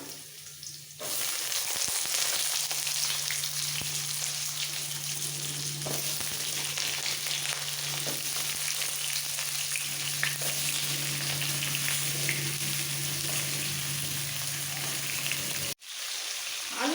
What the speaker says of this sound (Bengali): এবার দিয়ে দিচ্ছি আলু আলু আর কুমড়ো একসাথে দিয়ে দিলাম